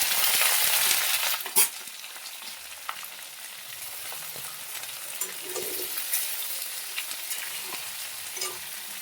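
Pea pods dropped into potatoes frying until reddish in a pan, with a loud hiss at first that settles into a steady, dense sizzle, broken by a few scraping stirs.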